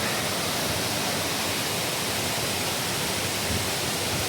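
Steady, dense rushing of a waterfall in Cat Cat Village, Vietnam, a loud, even roar that fills the whole clip with no voices over it.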